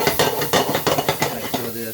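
Onion being stirred in a frying pan while cooking rice and okra, a steady sizzle broken by repeated scraping strokes of a utensil against the pan, close and fairly loud, with no talking.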